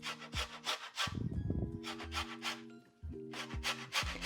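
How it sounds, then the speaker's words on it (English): Orange zest is rubbed off a single orange on a grater for a carrot cake batter, giving repeated scratchy scraping strokes, close and fairly loud, with short pauses between bursts and no talking. "I'm going to add some orange zest from this 1 orange"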